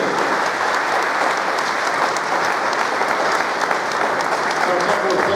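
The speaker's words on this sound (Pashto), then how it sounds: "چکچک ورته ووایه" A crowd in a provincial conference hall in Laghman applauds at a ceremony where the Mehtarlam and Zaranj municipalities sign a cooperation agreement. The clapping is steady, loud and continuous, filling the room like heavy rain.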